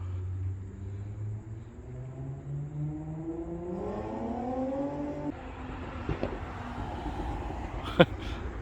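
A car engine with a crackle tune revs up with a rising, droning pitch, then a couple of sharp exhaust pops crack out near the end.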